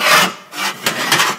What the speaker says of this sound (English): So I've got my shrinker in the vise,